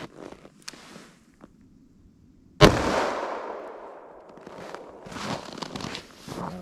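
A single loud, sharp report from a short-barrel .357 Magnum handgun cracks out, followed by a long fading echo, with quiet shuffling and handling noises before and after.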